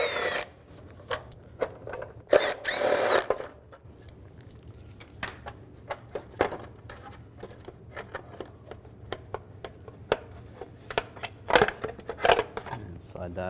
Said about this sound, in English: I'm going to remove this heat shield. Just use a 10mm socket.